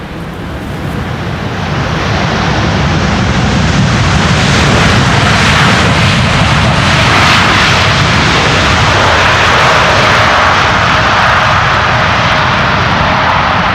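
A Cathay Pacific jet lands at Amsterdam Schiphol's Polderbaan runway, its thrust reversers building into a loud, sustained roaring rumble that swells after a couple of seconds and holds steady at a distance.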